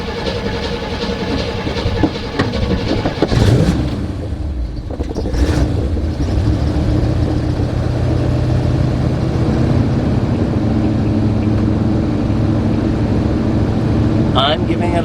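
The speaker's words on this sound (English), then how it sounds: "I'm giving it a little throttle there now to keep it up." A GMC 3500 truck engine with a rebuilt carburetor idles on choke and is given a little throttle, a steady, loud rumble that rises briefly early on, with someone talking over it.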